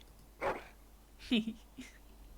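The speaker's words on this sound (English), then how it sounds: "Happy bark from dog" A dog companion in the fantasy role-playing game Dragon Age: Origins gives a couple of short, happy barks, separated by brief pauses, with a softer huff trailing after.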